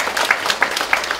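An audience at a Korean community welfare council meeting claps for the committee chairperson: a short burst of steady, rhythmic clapping, fairly loud and close, with no talk over it.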